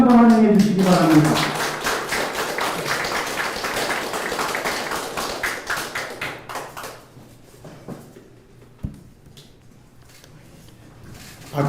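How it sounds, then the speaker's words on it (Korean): A crowd at a Korean political party gathering claps in welcome: loud, dense applause that steadily fades into scattered claps and near quiet. "큰 박수로 다시 한번 환영해 주시기 바랍니다."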